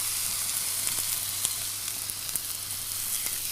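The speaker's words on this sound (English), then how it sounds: "Press the steak down with your tongs to make sure it's in good contact with the pan." A sirloin steak sears in a hot frying pan, giving a steady, close sizzle with small pops and crackles scattered throughout and no voices over it.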